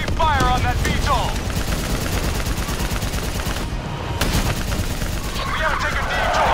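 Heavy gunfire in Call of Duty: Black Ops III, sustained rapid automatic fire pounding steadily at close range, with shouted voices breaking through at moments and a brief lull before the shooting resumes.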